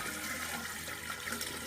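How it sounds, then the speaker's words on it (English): A gallon of cold water is poured into a container while brewing ginger beer, making a continuous splashing, gurgling flow close by and with no talking. "I'm going to pour my water over into here"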